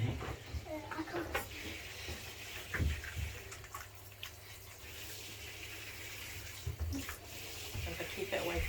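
Water runs and splashes while a Cavapoo puppy is bathed, a steady low rush with intermittent splashes, close by, as people talk quietly over it.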